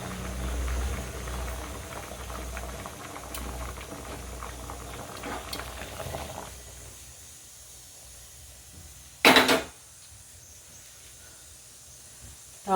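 A pot of South Indian buttermilk curry, mor kuzhambu, simmers with a steady soft bubbling hiss that fades quieter midway, broken by one brief sharp clatter near the end; no voices.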